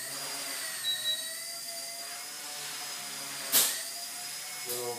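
A Blade Nano CPX RC helicopter flying indoors gives a thin, steady high-pitched rotor whine at close range, with a brief sharp clatter midway and another small knock near the end.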